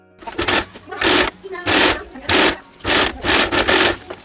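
A sewing machine stitches a folded fabric strip for a hair bow, running in six or seven loud close bursts of rapid needle clatter separated by short pauses.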